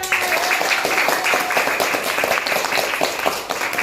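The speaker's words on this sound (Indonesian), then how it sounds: "Tepuk tangan." Children clapping for a winning group at a quiz session, a loud, close burst of rapid, uneven claps lasting several seconds with a brief voice at the start.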